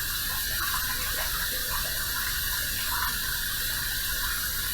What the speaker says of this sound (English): Let's heat this up under some hot water and get right to the shave.